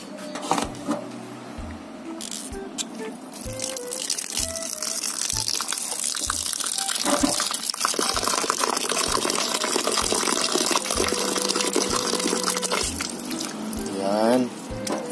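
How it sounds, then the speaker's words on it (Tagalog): Water is poured into a pot as a steady splashing, filling stream that runs for several seconds, with a rising gurgle near the end. Rhythmic mechanical thumps and background clatter sound throughout. "So, lagyan natin ng tubig."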